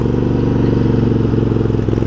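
A Craftsman garden tractor's small engine runs steadily below full throttle, loud and close, a continuous throbbing drone with no speech over it.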